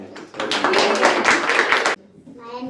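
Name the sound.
hand clapping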